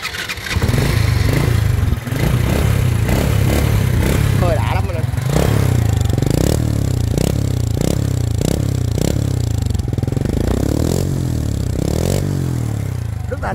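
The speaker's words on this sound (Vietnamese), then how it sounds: "mình cảm nhận cục máy, vừa nghe tiếng máy và mình vừa nhìn cái chiếc xe" A 2002 Honda Wave Alpha motorcycle engine idles and runs close by with a steady low chug, punctuated by repeated clattering and scraping knocks, while someone talks over it.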